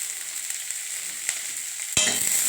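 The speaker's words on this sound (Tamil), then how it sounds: "பாருங்கள், வெங்காயம் இப்போ நல்லா வதங்கிச்சு." Onions sauté in a pan for a chapati kurma with a steady soft sizzle. A spatula scrapes briefly partway through, then the sizzle jumps louder and brighter near the end, close and without speech.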